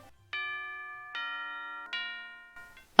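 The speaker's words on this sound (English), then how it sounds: "Oh, that's the 5-minute bell. Lunch is almost over." A school's five-minute bell in a video game, three sustained chime tones ringing out one after another, each ringing and fading before the next, with a sharp clatter at the very end.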